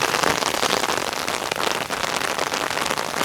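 A downpour drums hard and constantly on the ground and nearby surfaces outdoors, a thick wash of close raindrop noise that stays loud throughout without any talking.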